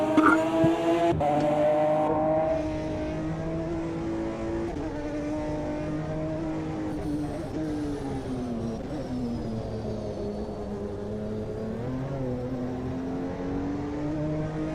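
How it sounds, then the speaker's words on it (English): In-car engine of a GT1 race car in the racing game Automobilista 2, a loud continuous drone that shifts pitch up and down with gear changes and throttle, with no talk heard. "The in-car sound, it feels like it's only coming out the right ear."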